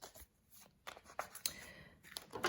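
Tarot cards being shuffled in the hands during a card reading, quiet papery riffles and soft slaps in short uneven bursts, close and faint with no talk over them.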